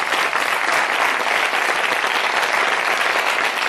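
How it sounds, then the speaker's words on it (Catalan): Studio audience on a Catalan television talk show applauds steadily, a dense, loud wash of clapping that holds evenly throughout with no speech over it. "aquest aplaudiment és per tu"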